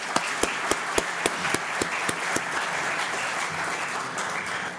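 Applause at a business awards ceremony in Minas Gerais, with sharp individual claps standing out early over a crowd's clapping that continues evenly afterward.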